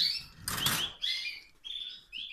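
Spanish timbrado canaries stir in an aviary: a quick burst of fluttering wings, followed by several short, bright chirps and tweets nearby.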